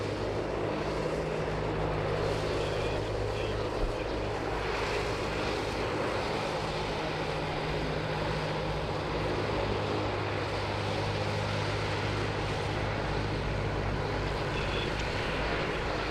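A QantasLink Dash 8 Q200 turboprop taxiing at Sydney Airport, heard as a steady engine drone with low propeller hum and broadband hiss, holding an even level from some distance, with no talking.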